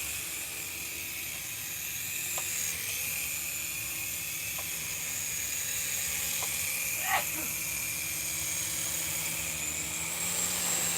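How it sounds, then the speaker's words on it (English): Auto World Shark toy RC helicopter flying, a steady high-pitched whirring rotor drone with a constant hiss, running continuously at moderate level with a few faint clicks and no talk. "And that's our helicopter, our Shark helicopter."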